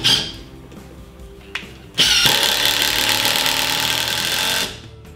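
A Makita brushless impact driver sinks a 3-inch drywall screw, a loud, close mechanical whir with hammering rattle that runs about two and a half seconds, preceded by brief handling noise.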